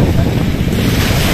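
Ocean waves wash steadily onto the beach at Morro de São Paulo, Bahia, a loud, continuous roar mixed with heavy wind rumbling across the microphone.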